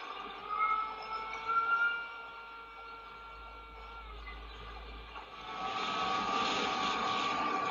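An Ultrix 600 model aircraft in flight, heard from an onboard camera, gives a steady whining motor drone with wind rush that swells louder toward the end.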